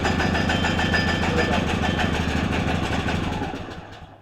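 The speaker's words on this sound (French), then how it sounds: "Je vous fais un essai tout de suite. Je mets le starter, on ouvre l'essence." Petrol engine of a log saw, started with the choke on and the fuel opened, runs loud and steady with a throbbing idle rhythm before dropping away near the end.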